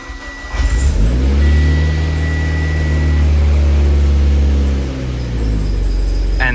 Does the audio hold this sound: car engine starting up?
yes